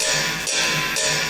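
Ride cymbal in a beat, a bright sustained wash struck about twice a second, with the layered beat loud throughout and no talking.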